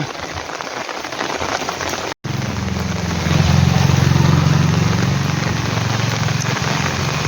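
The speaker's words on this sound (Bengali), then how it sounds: "চারিদিকে বৃষ্টি পড়ছে কাল রাত থেকে প্রচুর বৃষ্টি হয়েছে" Heavy rain pours steadily, a dense continuous hiss of drops on umbrellas and surfaces while walking to school, with a low engine hum joining partway through.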